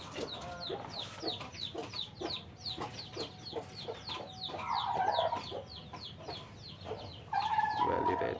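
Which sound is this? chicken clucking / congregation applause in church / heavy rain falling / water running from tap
chicken clucking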